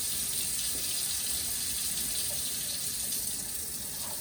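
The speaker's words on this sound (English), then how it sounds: "So you want cold water." A cold kitchen tap runs to rinse homemade butter, a steady splashing stream of water into a sink, close and continuous with no talking.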